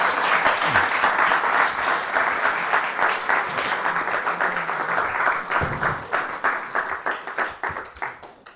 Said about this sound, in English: Steve, a round of applause.